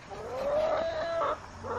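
A rooster lets out a single drawn-out call, rising then breaking off, followed by a brief softer cluck; close by, no talking.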